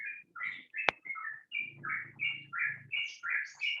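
Birds chirp nearby in a steady series of short, bright tweets and trills repeating almost without pause, with one sharp click partway through.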